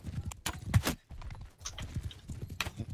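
Horse hooves clip-clop in a battle video game, with a quick, uneven run of hoof beats close up, mixed with busy game sounds.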